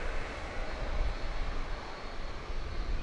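An airplane on the airport runway at Grand Cayman airport (GCM) produces a steady, broad engine roar that holds at constant loudness throughout.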